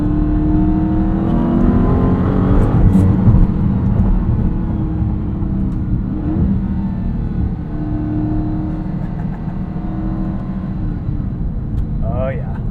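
A 2023 Dodge Charger Hellcat Widebody Jailbreak with a 6.2-liter supercharged V8 revs loudly and steadily from inside the cabin, a deep continuous engine drone throughout with someone talking over it.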